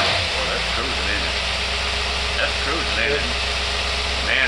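A car engine fitted with an AVS carburetor runs smoothly at a steady drone while cruising, loud and continuous, with faint background noise and no clear talk.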